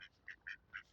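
White domestic ducks quack quietly in a short run of four or five clipped nasal calls spaced a fraction of a second apart, faint and somewhat distant with no voices.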